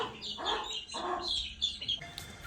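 A white hen clucks in short bursts, three or four throaty calls in an uneven rhythm, close and moderately loud, with higher chirping bird notes mixed in and no talking.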